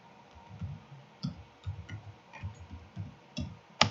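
Computer keyboard typing, a quiet, irregular run of soft close key clicks spaced a few per second, ending with one sharper tap.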